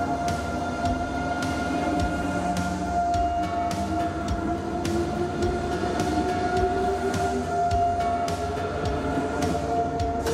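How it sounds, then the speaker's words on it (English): Intercity passenger train heard as a steady rumble with rhythmic wheel clicks over rail joints and a sustained tonal hum, continuous and fairly close throughout. "Intercity train is a type of railway vehicle used to transport passengers and goods between provinces,"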